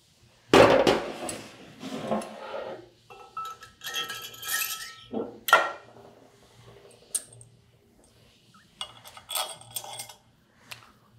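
Clicks, taps and metallic clinks of a pump body being seated and its retaining bolts tightened during maintenance of a Universal 3 PD pump, coming in short irregular bursts separated by quiet gaps.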